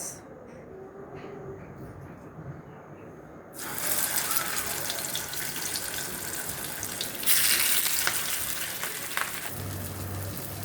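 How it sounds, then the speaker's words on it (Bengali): Rohu fish pieces are laid into hot mustard oil in a wok. A steady, hissing sizzle jumps louder once the fish goes in, then keeps up a broad, crackling roar throughout, with no talking. "মাছগুলো ভাজা হতে থাক।"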